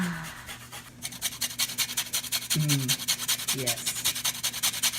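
Lemon zest grated for berry zest muffins, a rapid rhythmic scratching close by, with a brief spoken word near the start.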